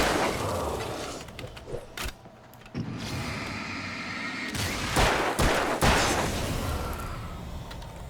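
Gunfire from the Alan Wake video game, with several sharp broadband shots spread across the clip, most bursting around the middle and later seconds over a steady background of game ambience.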